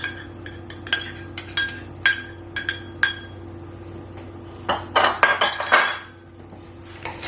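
Leaves and toppings tossed with dressing in a bowl for a baby spinach fruit salad, giving a string of light clinks and taps from utensils against the bowl, with a busier burst of scraping clatter toward the end over a low steady hum.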